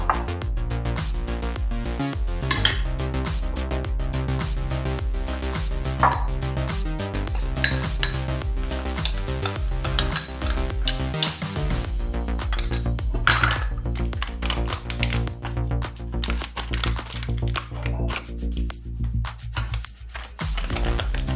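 Custard powder and milk powder are stirred into milk in a bowl. A spoon clinks and scrapes rapidly and repeatedly against the vessel, close and steady, then slows and tapers off near the end.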